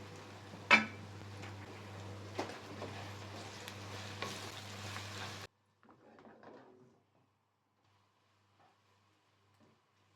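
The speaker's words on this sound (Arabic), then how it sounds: "كده البصل اتكرمل، وانا مش هقعده اكتر من كده." Onions caramelizing in hot oil for Egyptian koshari sizzle loudly for about five seconds, with a spoon clanking against the pan, then the sound cuts off, leaving faint scattered clatter and near silence.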